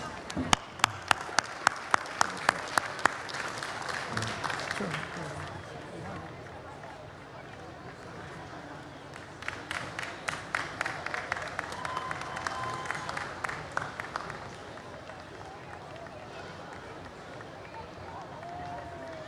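Audience applause at the World Culture Festival, heard as bursts of distinct claps in two waves over a murmuring crowd and background babble, moderately distant.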